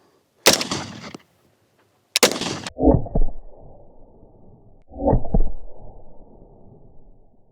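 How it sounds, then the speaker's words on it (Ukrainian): Two sharp, loud rifle shots ring out a second or so apart, fired with civilian ammunition at a ceramic armor plate, each followed by a short clattering impact and a brief rumbling echo. "зараз буду стріляти по американській плиті цивільним набоєм"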